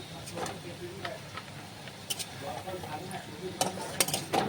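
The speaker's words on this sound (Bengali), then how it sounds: "এই আলু লাল লাল করে ভাজা হয়ে গেছে" Potatoes frying in a pan for a vetki fish curry, with stirring and light utensil scrapes over a steady background sizzle, a few sharper clinks near the end, while a voice talks throughout.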